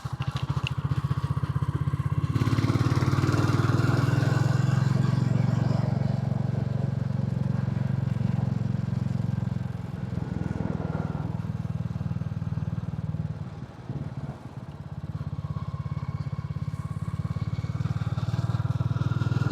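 A Royal Enfield single-cylinder motorcycle rumbles loudly and steadily while riding between houses, its deep thumping engine note dipping briefly mid-way before returning, with no voices.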